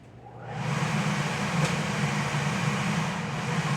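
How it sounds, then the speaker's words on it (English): A Vent-A-Hood kitchen range hood fan whirs up and settles into a steady, loud hum with broadband airy rush, no voices. "So Vent-A-Hood goes on. Sorry about the noise."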